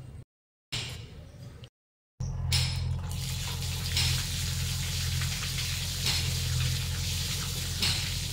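Tap water runs steadily while hilsa fish is washed, a close, continuous splashing rush after a couple of brief cuts at the start.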